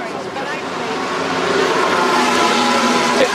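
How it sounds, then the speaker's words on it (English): A Red Bull Formula 1 engine is turned over at the back of a garage at the Hungarian Grand Prix practice, a loud, steady mechanical roar that builds slightly while a person talks over it. "the engine is being turned over at the back of the garage"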